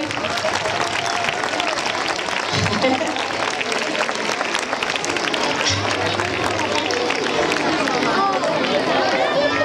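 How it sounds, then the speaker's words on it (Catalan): At a Jocs Florals 2014 ceremony, an audience breaks into sustained applause to encourage a group of young preschool children. The clapping is dense and continuous, with crowd murmur and some voices mixed in throughout. "Un aplaudiment per animar-los"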